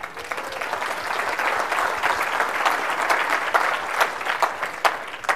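A large conference audience at a Greenbuild green-building event applauds steadily, dense clapping filling the space at moderate loudness throughout without a break.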